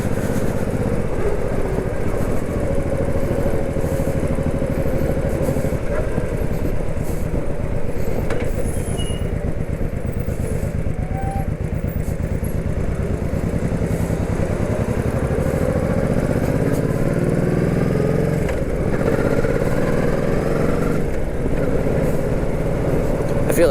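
Stock Honda Shadow 1100 cruiser motorcycle ridden on the open road, its engine giving a steady, loud low drone with wind rush that holds throughout, rising slightly in pitch late on.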